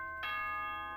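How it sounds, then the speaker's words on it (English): A school announcement chime from the video game Danganronpa rings out once, a bright bell-like tone with a sustained ringing tail, fairly quiet and heard alone. "Ding dong, ping pong."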